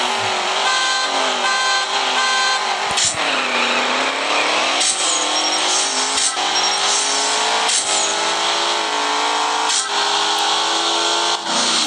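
A Ferrari Enzo engine in the racing game CSR Racing revs loudly and continuously, its tone sweeping up and down through gear changes with sharp shifts, dense and close throughout with no voices.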